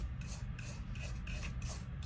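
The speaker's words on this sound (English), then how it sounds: "It will also look new after you brush it with lacquer thinner." A brush scrubs back and forth over a TV circuit board wet with lacquer thinner, giving soft rhythmic rasping strokes, close and fairly quiet.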